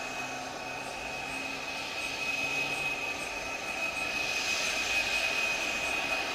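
Fighter jets perform at the Bengaluru air show, giving a steady jet-engine roar with a high whine that swells slightly louder partway through, heard alone with no talk.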